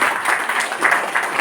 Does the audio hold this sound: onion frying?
no